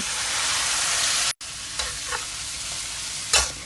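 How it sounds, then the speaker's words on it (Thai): Meatballs and bamboo shoots stir-fried in a pan for Thai basil kaprao, a steady close sizzle with occasional scraping stirs and a brief break partway through. "จากนั้นก็พัดต่อค่ะ"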